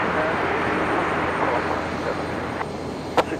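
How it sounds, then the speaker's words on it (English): A Dash 8 Q400 turboprop airliner departing Brisbane in the evening, a moderate steady engine drone heard from a distance, with a voice speaking over it and a couple of short clicks near the end. "The Dash 8 Q400."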